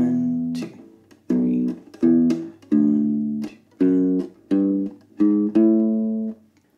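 Ukulele bass (U-Bass) playing two measures of a song's bass line: seven deep, sustained plucked notes in a steady rhythm, each with a sharp attack, close and alone with no talking.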